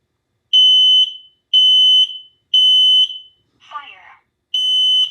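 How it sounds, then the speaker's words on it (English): A basement smoke alarm in a house sounds loud, close beeps in a regular rhythm, four long tones with a short burst of other noise between the third and fourth, and no voices. "the basement smoke alarm at 26 Pearl Avenue"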